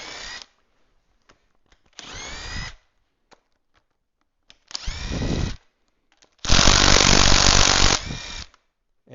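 A power tool loosens bolts to remove the rocker shafts from a 340 engine, firing in several separate bursts of whirring and ratcheting, the last one long and loud, with short silent gaps between them.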